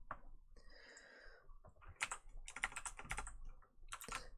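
Typing on a computer keyboard, fast uneven bursts of close, crisp key clicks with short pauses between runs.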